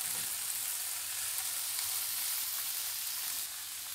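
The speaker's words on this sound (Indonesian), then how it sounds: "Jadi semuanya tertumis agar rasanya enak" Tofu, bean sprouts and salted fish stir-fry in a hot pan for a spicy, savory dish, giving a steady, close, loud sizzle of hissing oil throughout with no talk.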